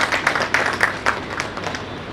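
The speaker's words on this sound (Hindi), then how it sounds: "तालियों से उनका धन्यवाद दीजिएगा।" Applause at an Indian media awards ceremony: a modest burst of clapping from the seated audience, a few sharper claps standing out early, then thinning and fading over about two seconds.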